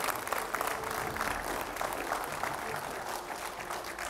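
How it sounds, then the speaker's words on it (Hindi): Studio audience applause greets a spiritual guest on a televised talk show, a dense, steady wash of clapping that holds at even loudness for the whole stretch with no gaps. "जोरदार तालियों से स्वागत कीजिए"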